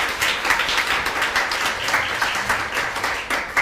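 A church congregation at a Christmas service claps in welcome, a full, even burst of many hands applauding nearby without pause.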